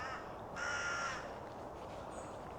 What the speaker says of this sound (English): Mr. Crow protesting in the tree above us